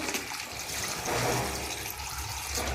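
Water is poured into a pressure cooker in a home kitchen, a steady splashing, trickling pour that runs close and fairly loud for the whole stretch.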